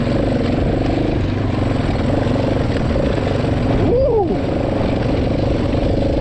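A quad bike engine drones loudly and steadily as it climbs a rough, bumpy road toward a summit, with a brief rising whine of revs midway.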